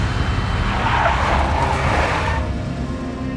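A big black Mercedes skids in the Max Payne video game, its tires squealing over a loud rumbling engine and road roar. The sound is close and sustained, then eases off toward the end.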